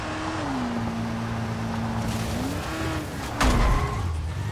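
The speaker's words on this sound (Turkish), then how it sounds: "Araba kaydı" A car in the game Dying Light skids during a race: a drawn-out tire squeal over a steady engine drone, ending in a louder thump, with no talking.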